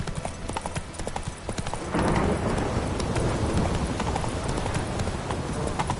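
Roach the horse gallops in The Witcher, hooves clip-clopping in a quick steady rhythm close by, growing denser and louder partway through over a rushing ambient bed.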